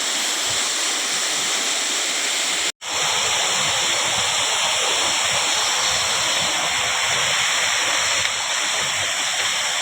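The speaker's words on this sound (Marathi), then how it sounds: "धबधबो आणि शिंगेश्वर मंदिर हय बाजूकच" A waterfall near the Shingeshwar temple in a Konkan village roars constantly, a thick, steady rush of falling water heard up close, with one brief dropout early on.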